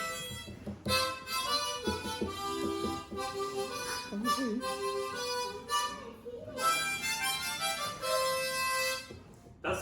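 The Mexican folk song La Cucaracha plays as a continuous, steady melodic recording with harmonic instrumental tones throughout, fairly loud and uninterrupted for the full stretch.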